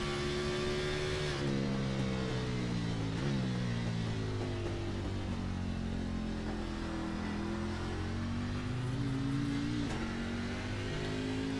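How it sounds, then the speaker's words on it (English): Race car engine in a sim racing game, the driver easing on and off the throttle and shifting early: a continuous close, loud engine drone whose pitch rises and dips with small throttle lifts throughout, no talk. "You hear how easy he is on the throttle"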